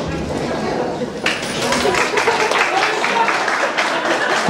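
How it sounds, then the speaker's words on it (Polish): Applause and cheering from wedding guests welcoming the newlyweds onto the dance floor, a dense wash of clapping that swells after the first second and carries on steadily, with crowd chatter mixed in. "Powitajmy ich pięknymi, głośnymi brawami."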